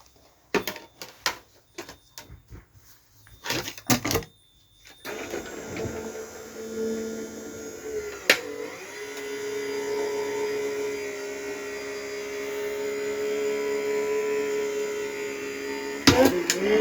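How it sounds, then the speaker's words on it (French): A few clicks and handling knocks come first, then a small electric die-cutting and embossing machine starts up. It runs with a steady, moderately loud mechanical hum and whir that continues to the end. "elle est électrique, ma petite machine"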